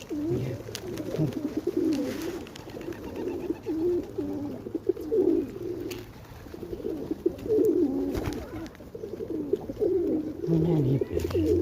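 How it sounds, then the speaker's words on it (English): Pigeons cooing steadily at feeding time, several soft low coos repeating close by, with scattered pecks and rustles and a person talking quietly in between. "Many pigeons."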